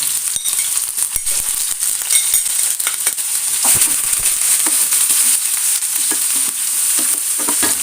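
Chopped shallots, green chili and curry leaves sizzle loudly in a pan for a Kerala-style drumstick flower thoran: a steady, bright frying hiss with crackles and stirring scrapes, close up and without speech.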